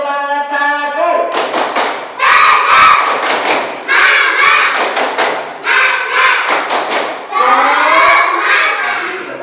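A classroom of students performing a rhythmic clapping chant led by a teacher, with bursts of group shouting and claps in repeated patterned phrases, loud and close.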